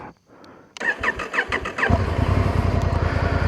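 A 2025 Honda Africa Twin motorcycle, in first gear on a hill, cranks with a few rhythmic starter whirs, then catches and settles into a steady, close, throbbing idle.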